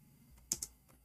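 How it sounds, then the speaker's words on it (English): Computer keyboard keys are tapped in a brief burst of two or three close, crisp clicks, with a faint hum in a quiet room. "Oh, I'm typing in English again."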